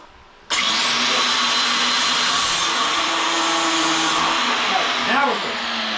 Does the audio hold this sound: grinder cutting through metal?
yes